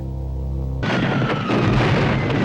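Fireworks burst in a 1990 action film scene: after a steady tonal hum, a sudden loud broadband boom erupts, followed by sustained crackling and rumbling.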